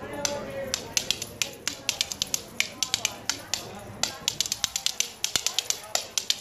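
A pair of spoons played as a percussion instrument by a former drummer at a dance event, rattling out quick, irregular bursts of sharp clicks in fast rhythmic runs, close and clear, with voices faintly underneath.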